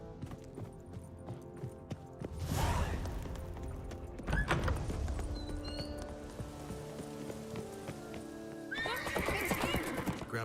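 Rhythmic clip-clop of a horse galloping in The Witcher 3, with neighing and whinnying bursts rising over the hoofbeats and quiet game voices in the background.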